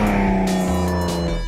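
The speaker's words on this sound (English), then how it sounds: "The car is a real exotic and unfortunately convinces with the good V6 sound." A Mazda MX-3 with a V6 engine hums steadily and close at an even idle-like pitch for a brief moment, with no talk.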